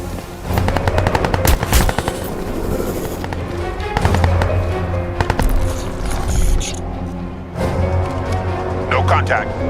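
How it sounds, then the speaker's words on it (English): Heavy machine gun in the shooter game Crysis 2 Remastered firing in long, rapid bursts of loud, close gunfire, with brief pauses between volleys, while voices speak underneath. "Yes, I'm sure that heavy machine gun didn't just come off its mount all by itself."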